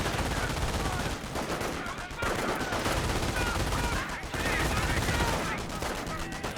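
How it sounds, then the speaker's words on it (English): Continuous dense gunfire and battle noise from a Company of Heroes match, with MG42 machine gun bursts blending into a loud, steady wall of shots and explosions that barely lets up, without clear talk over it. "Now got also MG42 deployed in the field."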